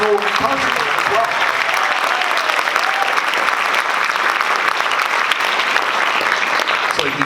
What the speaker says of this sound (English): keep your round of applause going for our Barry saxophone player, Sean Scott